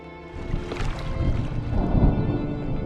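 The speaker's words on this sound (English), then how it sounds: "Was that thunder? Still distant." Low, distant thunder rumbles in the video game Draugen, a broad swelling roar that builds and peaks around the middle, mixed with wind or water ambience around a rowing boat and no speech over it.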